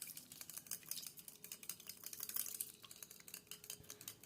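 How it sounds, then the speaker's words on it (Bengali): Oil being whisked into an eggless nolen gur cake batter in a bowl, a fast, steady run of light clicking and scraping strokes close by with no talk. "এবার তেলটাকেও এর সাথে খুব ভালো করে মিশিয়ে নিচ্ছি।"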